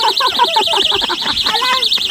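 A warbling electronic alarm wails continuously at high pitch, fairly loud, while people talk over it.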